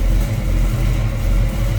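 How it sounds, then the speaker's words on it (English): A 1972 Chevrolet Camaro with a 454 big-block V8 idles with a deep, loud, loping rumble, pulsing in a steady rhythm close by. "Just a nice rumble out of that big block."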